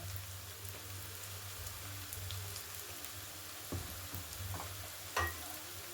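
Chili powder and spices frying in a pan with ginger and garlic for a Bengali cauliflower and egg curry, a steady soft sizzle with a few sharper crackles and stirring clinks near the end.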